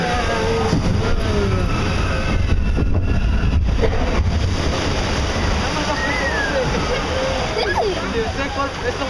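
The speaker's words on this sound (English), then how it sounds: "That's a big splash." Loud rushing water and broad splashing noise from a log flume ride on Splash Mountain, a steady roar across the whole stretch with excited voices of riders and a child mixed in throughout.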